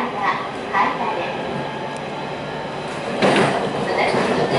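A train rolls steadily along the Tohoku Main Line in Japan, a continuous rumble with faint rail clatter, heard from inside the carriage.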